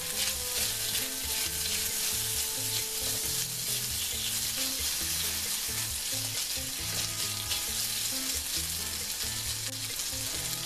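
Steady, loud sizzling of strips of meat frying in a hot kazan, with crackles and occasional scraping of stirring throughout.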